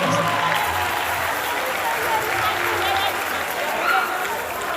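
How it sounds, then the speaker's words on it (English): An audience claps and cheers in a steady wash of applause at a university praise and worship event, continuous and loud from start to end. "I want you to clap for that man"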